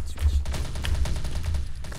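A Hồ Quang shotgun in the video game Truy Kích VN fires a rapid string of sharp, punchy blasts with crackling effects over a low rumble, loud and close, with a faint voice in the background.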